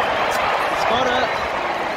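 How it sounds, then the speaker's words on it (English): Geelong supporters roar at an AFL match between Fremantle and Geelong in 2024, a dense, loud, steady wash of stadium crowd noise with whistle-like cheers rising through it. "And that's one very loud Geelong crowd."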